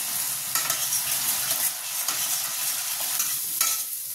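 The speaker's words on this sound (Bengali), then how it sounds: "দেখো মশলাটা খুব ভালো করে কষানো হয়ে গেছে।" Spice paste with salt and Kashmiri red chili powder sautéing in a pan for a pointed gourd rezala, a continuous loud sizzle with soft, irregular scraping from stirring and no voices.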